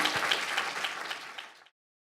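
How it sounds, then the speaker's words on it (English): Audience applause for a panel at a business talk, an even wash of many hands clapping at moderate loudness for under two seconds, then cutting off into silence. "we get a round of applause for our panel"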